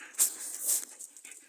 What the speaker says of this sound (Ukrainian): прибіг такий собачка класний